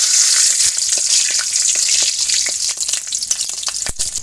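Green chillies crackle and sizzle in hot oil in a pan, a steady loud hiss with frequent sharp pops and spits, heard alone without talk.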